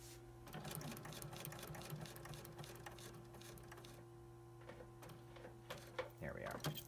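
A sewing machine stitches a trouser welt pocket in short, faint runs, running a very short stitch and then the default stitch, with quiet tapping and handling noises and some talk nearby.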